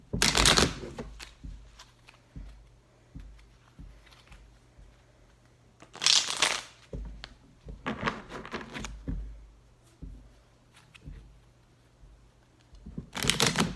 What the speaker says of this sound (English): Let me just give a shuffle after that trick.